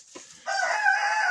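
Ameraucana chickens kept in an unheated shed give a loud, sustained vocal call, a drawn-out crow-like cry heard up close with no talking.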